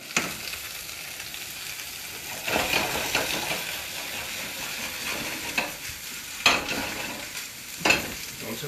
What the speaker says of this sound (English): the hardest part about sauteing greens is keeping them in the pan